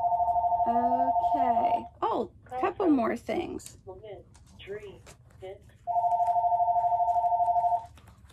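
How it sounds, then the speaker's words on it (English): A telephone rings in a yarn shop, a loud steady electronic tone repeating in two long bursts at the start and end, with someone talking in between. "Sorry about the phone."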